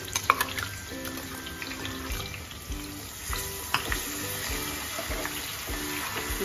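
Ginger-garlic paste with bay leaves frying in a pan for a village-style country chicken dry curry, giving a steady sizzle with scattered stirring clicks and scrapes throughout.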